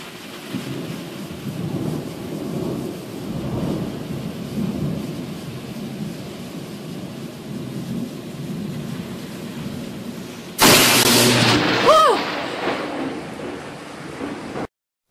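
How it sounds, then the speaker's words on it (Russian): Thunder from a lightning strike on a power line during a thunderstorm: steady rain and low rumbling throughout, then a sudden loud, broadband crack near the end followed by a brief decaying rumble, with no talk. "И удар молнии в линию электропередач."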